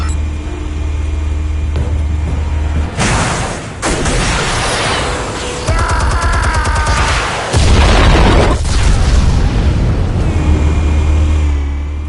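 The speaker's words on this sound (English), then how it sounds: "Explosives armed. Fire when ready." Explosives detonating in the Batman Telltale video game: loud, heavy booming blasts with a deep rumble, followed by crackling debris and a sustained low roar, close and dominant throughout.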